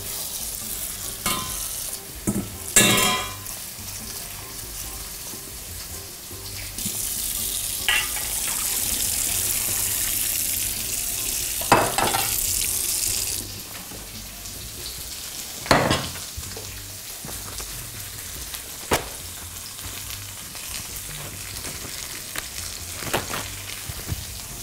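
Eggplant fries in a pan with a soft sizzle running throughout, broken by sharp scrapes and knocks as it is stirred, and a louder hiss swelling through the middle.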